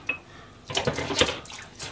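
Pots and pans clatter close by as they are handled during washing-up after a meal, with quick metallic knocks and a little running water.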